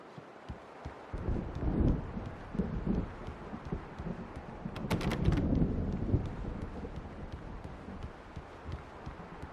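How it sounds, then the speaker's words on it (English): Low rumbling thunder and rain of an approaching thunderstorm in the video game Alan Wake Remastered, swelling in waves at moderate distance, fairly quiet overall with scattered drops and no talk. "The storm is almost here."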